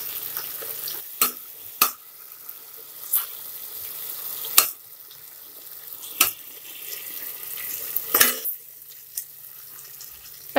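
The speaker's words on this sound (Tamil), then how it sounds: "தக்காளி நல்லா வதங்கிடுச்சு" Tomatoes sautéing in a pan for a millet biryani make a quiet, low sizzle, punctuated by roughly ten sharp, separate spoon clinks and scrapes at uneven intervals.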